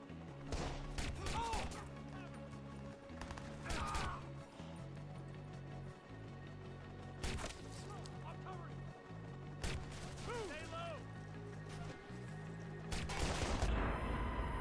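Gunfire in Watch Dogs: repeated loud bursts of rapid shots come in clusters over a steady droning music bed, with crashes and impacts between the volleys.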